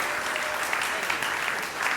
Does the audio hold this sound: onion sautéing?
no